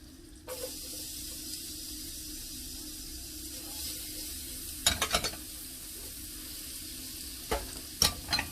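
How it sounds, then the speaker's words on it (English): Onions and garlic sautéing in melted butter give a steady, fairly quiet sizzle, with a few sharper clinks and scrapes of stirring near the middle and end; no one speaks. "Once that's melted, we're going to add the onions and garlic."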